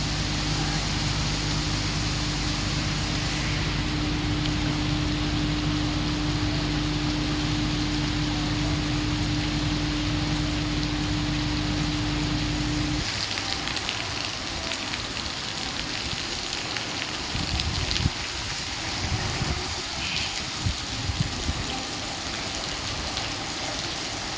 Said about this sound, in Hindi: आप गाड़ी पे देख सकते हैं बड़ी बड़ी बूंदी पड़ रही हैं।